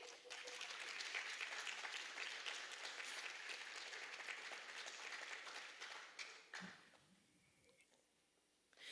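An audience at a regional school awards ceremony applauds a student award recipient with sustained clapping for several seconds, then the applause thins out and fades to a low room hush.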